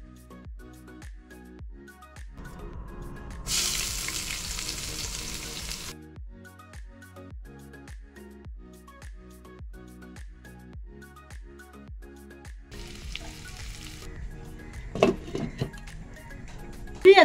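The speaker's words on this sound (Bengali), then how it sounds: "আমার মনে হলো আগে একটু মাংসটাকে ভেজে নিই।" Meat fries in a pan with a soft, steady sizzle under a quiet, evenly ticking background and a few brief louder bursts, and no talking.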